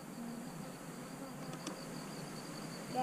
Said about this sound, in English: Come here, look at these bees.